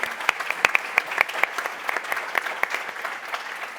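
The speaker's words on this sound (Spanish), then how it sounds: "así que pido un aplauso para ellos" An audience applauds the speakers at a conference on the private healthcare sector, a steady patter of many hands clapping at moderate distance, with a few louder individual claps standing out.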